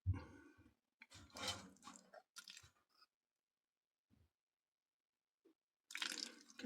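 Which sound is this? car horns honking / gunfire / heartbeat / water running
water running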